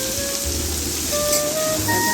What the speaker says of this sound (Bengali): এক এক করে আমি একসাথে যে সবজিগুলো কেটে রেখেছি ওগুলো ওর মধ্যে দিয়ে দেবো।